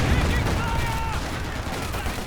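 Machine-gun fire from a Company of Heroes battle: a dense, continuous chatter of shots and battlefield noise runs the whole time, with a voice talking over it.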